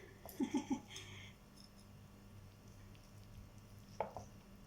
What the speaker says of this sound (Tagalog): Hiwain natin.